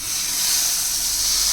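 Hot mustard oil with whole red chilies is poured over kadhi and sizzles in a loud, steady hiss that stays close and unbroken, with no talking.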